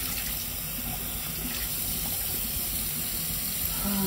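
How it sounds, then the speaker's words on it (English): Tap water running steadily onto a rag in a sink, a continuous close hiss and splash with no break throughout. "the water is running on the rag while I'm doing the next step"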